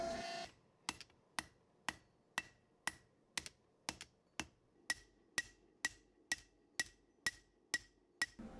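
Hammer blows on a Damascus steel knife handle at an anvil, sharp ringing metallic strikes in a steady even rhythm, about sixteen in a row, close and alone.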